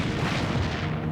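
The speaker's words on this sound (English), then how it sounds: "Hood fires first. Bismarck immediately returns fire." Heavy naval gunfire as the battleships Hood and Bismarck trade salvos, a dense, continuous rumbling roar of big guns with low booming swells, loud and with no voices.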